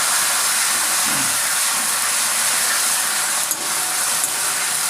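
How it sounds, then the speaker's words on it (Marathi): Tomatoes tossed into a hot pan of frying ginger and garlic give off a steady, even sizzle that fills the whole stretch, with no voices over it. "आता यामध्ये मी हे टोमॅटो टाकणार आहे"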